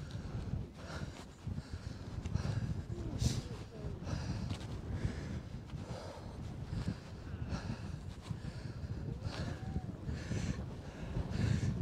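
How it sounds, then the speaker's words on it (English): Strong wind buffets the microphone on an exposed hilltop in Bradgate Park, Leicestershire, a steady loud roaring rumble with gusting surges throughout and no clear talk. "I'm not sure if you can hear any of this because it is so windy up here"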